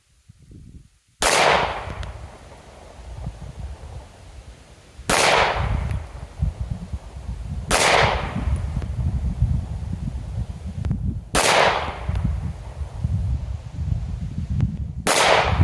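A Beretta APX A1 9mm pistol fires five single shots outdoors, sharp loud cracks spaced several seconds apart, each followed by a short echoing tail and faint rustling between.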